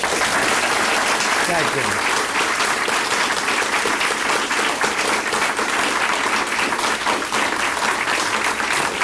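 Sustained, dense applause from an audience at an evening opening event honoring a guest, loud and continuous throughout, with a man briefly thanking the crowd over it.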